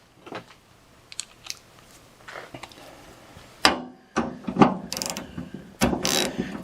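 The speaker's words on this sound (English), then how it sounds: "I'm going to go ahead and tighten it down all the way now." A fastener on a Ford Ranger pickup tailgate handle is tightened down with a ratchet, giving short bursts of crisp, close clicking that grow louder and denser toward the end.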